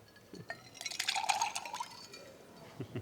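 Water is poured into a glass for a drink at a hot graduation ceremony, a rising liquid trickle with light clinks lasting a couple of seconds, fairly close and moderate in level, with no talking over it.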